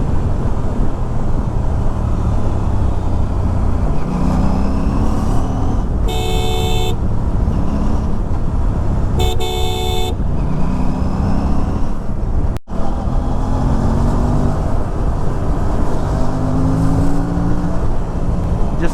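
A KTM RS 457 motorcycle rides along an open road, its engine droning loudly and steadily with rising revs as the throttle opens. Wind roars throughout, and a couple of brief horn toots sound midway.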